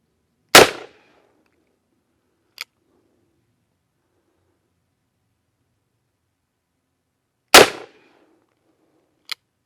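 Two loud, sharp revolver shots from a Cimarron firing 44 Magnum and 10mm hand loads, each a sudden close blast with a short decay, followed by a small click, in otherwise near silence.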